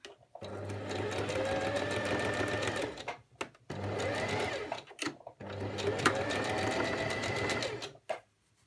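A sewing machine stitches a fabric wrist band with a stretch straight stitch, its fast steady needle rhythm running in three close bursts separated by short pauses, clear and alone.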